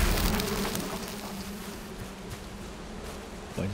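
Bees buzz in the video game Valheim, a steady, dense insect drone close by, with faint background tones and a small bump at the very end.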